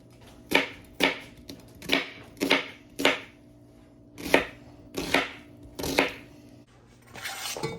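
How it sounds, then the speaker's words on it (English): An onion being chopped into large chunks on a cutting board, with about nine distinct, evenly spaced knife strikes, close and fairly loud, with no talking. "I'm leaving them in kind of bigger chunks just so Ryder can pick them out easier."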